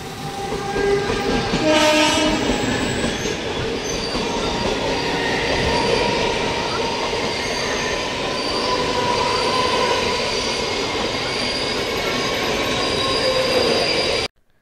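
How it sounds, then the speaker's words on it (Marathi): A Mumbai local train passes close by, its wheels squealing loudly and continuously on the rails, with a brief horn-like tone near the start and a sudden cut-off at the end. "समोर तुम्ही मुंबईचे लाईफलाईन मुंबई लोकल बघू शकता."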